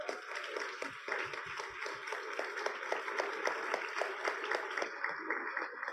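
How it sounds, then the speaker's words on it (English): Audience in a room clapping for librarians at an author event with Emily St. John Mandel, a steady, moderately loud wash of many hands that holds for about five seconds before thinning out. "We're gonna clap for them twice"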